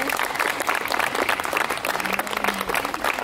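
An audience of young people at a Polish youth days event applauds a guest speaker, with a full, even roar of clapping sustained across the clip at moderate loudness.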